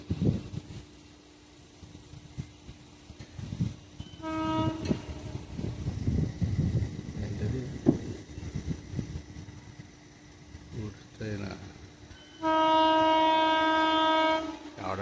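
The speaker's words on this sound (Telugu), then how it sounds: "ఘాటీగా వస్తుంది గూడ్స్ బండ్ రైలు" A goods train rumbles and clatters past at close range, its horn sounding briefly mid-way, then a long, loud, sustained horn blast near the end.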